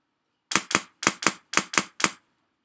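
A Polar Star airsoft DMR rifle fires seven sharp, close shots in semi-automatic mode, loosely paired in a quick, even rhythm with no talking.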